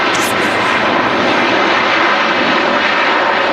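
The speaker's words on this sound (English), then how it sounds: "It sounds like it's using a lot of reverse thrust as well." Loud, steady roar of an airliner landing at Manchester Airport with heavy reverse thrust, a dense broadband rumble filling the whole stretch without letup and no talk over it.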